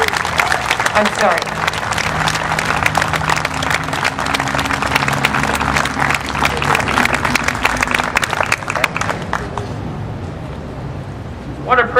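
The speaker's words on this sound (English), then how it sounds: "let's give a round of applause for John Barry" Audience applause at a Tea Party rally in Valparaiso, Indiana, a dense sustained clapping from a crowd lasting about ten seconds before thinning out, with a voice briefly heard near the end.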